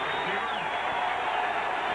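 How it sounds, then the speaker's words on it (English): Stadium crowd cheering at a 1999 Washington State versus Idaho college football game in Martin Stadium, a steady dense roar filling the whole clip with no break or swell. "Vandal crowd appreciative."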